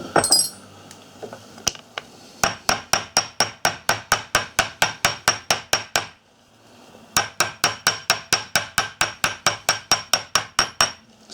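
A Tandy 3.5mm pricking iron is tapped down into leather with a hammer, giving two long runs of sharp, evenly spaced metallic strikes that are close and loud, separated by a brief pause.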